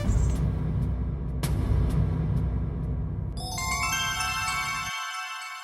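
A phone ringtone chimes in over a low rumbling background partway through, a bright repeating electronic melody that carries on after the rumble cuts out, heard in a Hindi TV comedy household scene.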